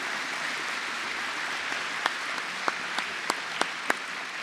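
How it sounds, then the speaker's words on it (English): A graduation audience at Perry Technical Institute gives a round of applause: a steady wash of clapping from a large hall crowd, with a few sharper individual claps standing out near the end. "go ahead and give a round of applause for that"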